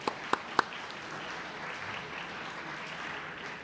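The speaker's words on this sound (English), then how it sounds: "let's give a round of applause for these amazing people on the stage for being here" Audience applause for panelists on stage at the Building Bridges Summit 2025: three sharp claps up front, then a fainter, steady wash of clapping from a room.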